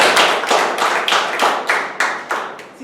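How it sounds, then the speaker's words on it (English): A small meeting audience claps in a few slow, separate rounds, each with a sharp onset that trails off. The claps sound close and fairly loud, and no one speaks. "Let us have a big round of applause"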